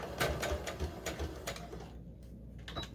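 A sewing machine stitches a 20-inch doll dress, its needle chattering in a quick, even run of close, soft-edged pulses before trailing off into brief pauses.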